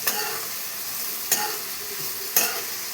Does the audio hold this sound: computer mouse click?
no